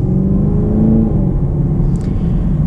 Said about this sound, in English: So let's get a little acceleration here.